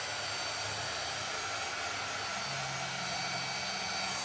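Steady, loud whirring of a hair dryer blowing close by to dry paint on a thrifted picture frame, a continuous broadband rush with no voices over it.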